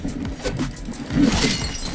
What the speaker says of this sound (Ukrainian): Дебіл об мене бутилку розбив.